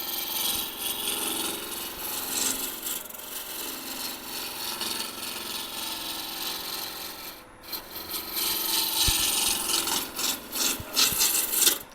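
A hand tool slices into cherry wood in a slow, steady cut, the close rasping scrape drawn out over several seconds with a brief pause partway through.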